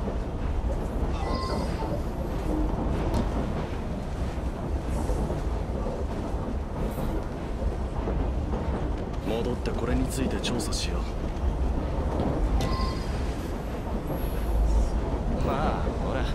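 A noisy train rolls along in the Assassin's Creed Syndicate video game, a constant dense rumble and rattle throughout, with a voice speaking over it.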